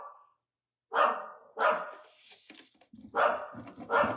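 A pet dog in a home barks loudly and close, four sharp barks in an uneven rhythm after a brief quiet start, with no talk over them.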